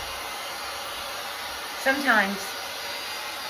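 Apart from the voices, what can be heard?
small hair dryer drying paint on canvas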